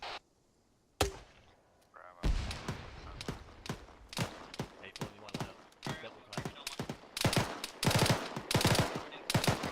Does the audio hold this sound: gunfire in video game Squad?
yes